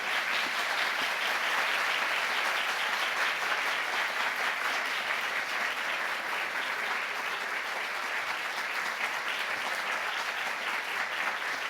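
An audience applauds steadily after a harp concert, dense sustained clapping filling the hall without a break.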